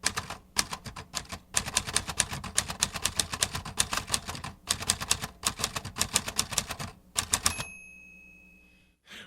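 Fast typing on a Lettera 22 typewriter: close, crisp keystrokes clatter in rapid bursts with brief pauses, then a short ringing tone sounds as the typing stops.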